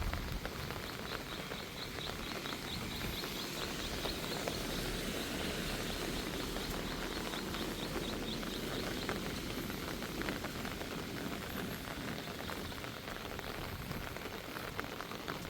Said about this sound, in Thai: ฝนตกทั้งคืนเลย